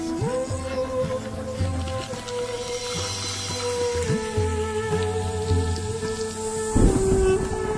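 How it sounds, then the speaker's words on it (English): Heavy rain pours over a dry African landscape, a dense steady wash with deep low rumbles suggesting thunder, layered under sustained musical tones, with no talking. "The annual rains bring a deluge that in a matter of weeks will turn the sepia landscape emerald green"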